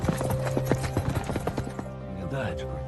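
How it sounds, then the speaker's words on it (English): Horse hooves galloping into a first battle between warring kingdoms, a rapid run of close, loud clip-clop beats over a low droning hum, easing off in the last second. "By the time the hooves thundered, the choice had already been made."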